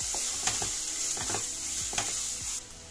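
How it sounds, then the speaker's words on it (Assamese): Potato stuffing fries in a pan with coriander, cumin and red chilli powder, a steady loud sizzle broken by several scraping stirs of a spatula, no voices. "দি গোটেইখিনি মছলা আৰু অলপ ভাজিম"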